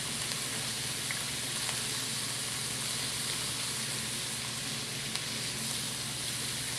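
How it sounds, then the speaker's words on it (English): Curry powder, salt and pepper sizzle steadily in a hot pan while being stirred, a dense, continuous frying hiss at close range with no talking. "Now once I stir that curry powder in, it's going to burn in like 3 seconds."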